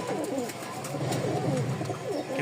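Racing pigeons kept for sale at a loft in Mirpur, Dhaka, coo softly in repeated low, rolling calls close by, with a steady background hiss and no speech.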